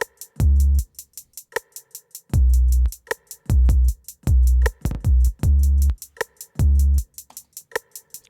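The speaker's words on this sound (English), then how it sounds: "Let's hear just the 808 with the drums." A deep 808 bass built from a default sampler patch in Logic Pro plays with the drums from an instrumental: booming sustained bass hits under a steady pattern of crisp ticking hi-hats and snaps, loud and without vocals.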